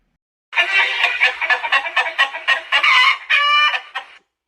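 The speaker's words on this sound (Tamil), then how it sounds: "கோழி" A chicken clucks in a quick, busy run of loud, close calls, pulsing steadily for several seconds and rising into a longer squawking cry near the end, with no voices over it.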